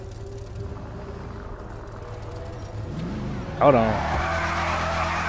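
Car in GTA 5 revving hard into a donut, the engine note climbing and then a loud, sustained tire squeal taking over; someone talks briefly over the engine at the start.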